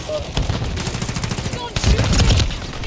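Rapid bursts of gunfire from a Call of Duty match crackle near and loud through the whole stretch, layered with explosive thumps and game noise, with players talking over the shooting.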